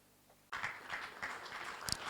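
Applause rises suddenly after a short near-silent lull at an official state handover ceremony for the President of Ghana, settling into a fairly faint, uneven patter of clapping heard from a distance.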